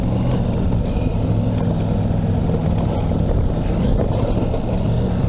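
Steady, loud engine drone and wind rush from a 2022 Ducati Multistrada V4S being ridden off-road, a continuous low rumble that holds constant throughout with no talk over it.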